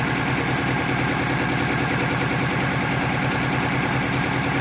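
A 1990 Eagle Talon TSI engine runs rough and misfires after sitting unused for 19 years, a continuous loud, gritty rattling chug with rapid uneven pulses and no voices.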